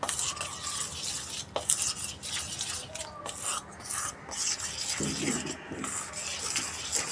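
Gram flour is worked into spinach dough for palak sev, giving close, irregular rubbing, scraping and squishing sounds of mixing in a bowl with occasional light clinks, no voices.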